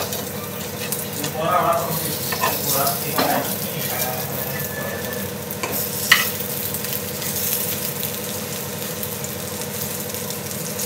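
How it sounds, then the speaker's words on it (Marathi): Soybean and potato tikki sizzle and fry in a pan, a steady close crackle with occasional stirring scrapes and a low hum underneath. "छान असं दोन्ही साईडनी करपूस फ्राय करून घ्यायचं"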